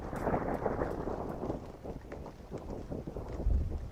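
Thunder rumbles low and heavy in a dramatized audio story, a dense rolling roar with wind and rain texture, swelling again near the end, with no voices.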